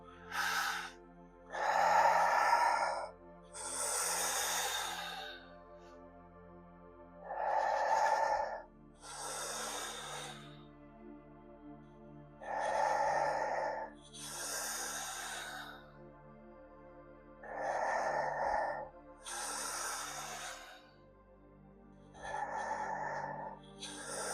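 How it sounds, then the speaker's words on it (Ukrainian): Deep rhythmic breathing in the Wim Hof technique, with about nine full inhale and exhale cycles, each a loud breathy rush a couple of seconds long, close to the microphone, with no speech. "дотягую максимально глибокий вдих, розслаблюючи видих"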